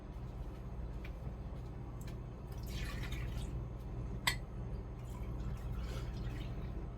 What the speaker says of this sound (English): You just want to pour it in your pot